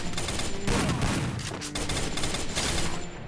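Rapid gunfire from the Free Fire battle royale game, a dense, loud, continuous burst of shots with a brief dip partway through, filling the whole stretch with no talk.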